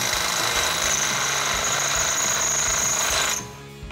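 A power drill with a 3/8 inch bit boring through metal while installing a Teraflex suspension on a Jeep Wrangler JK, a loud steady grinding whine that holds for about three seconds and then cuts off.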